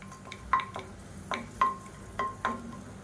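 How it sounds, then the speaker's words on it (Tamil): Large lumps of asafoetida fry in a teaspoon of oil in a kadai, giving a soft sizzle with a handful of light clinks as they are stirred, close and fairly quiet. "பெருங்காயம் நல்லா பொரிஞ்சிருச்சு"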